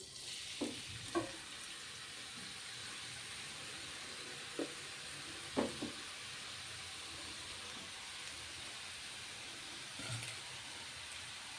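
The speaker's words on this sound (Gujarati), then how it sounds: "ઘી આપણું અહીંયા ગરમ થઈ ગયું છે તો હવે આપણે આ ગાજર તેમાં એડ કરી દઈશું" Grated carrots frying in hot ghee give a soft, steady sizzle close by, broken by a few light clinks and scrapes of stirring.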